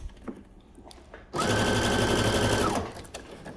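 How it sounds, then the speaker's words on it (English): A sewing machine stitching a shirt cuff on a button-down, a close, steady mechanical whir with a rapid needle rhythm lasting about a second and a half between quieter handling noises. "I'm gonna go ahead and back stitch and sew all the way to the end"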